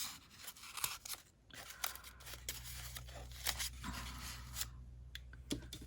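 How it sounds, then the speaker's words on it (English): Scissors snip and rustle through paper in quiet, irregular cuts for an art journal page, with a faint low hum in the background. "I'm really just swinging this paper around and cutting it"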